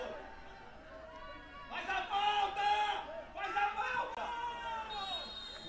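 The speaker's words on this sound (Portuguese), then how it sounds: "A torcida em pé e grita galo." A standing football crowd chants "Galo" at Estádio Caio Feitosa, two rising waves of massed voices in the distance beneath a commentator talking.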